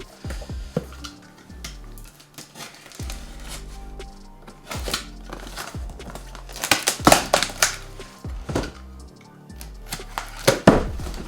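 Packaging around an Air Jordan 6 Carmine 2021 sneaker box being cut and torn open, with irregular sharp clicks, snaps and crinkling bursts that grow louder and busier toward the end, close by and without talk.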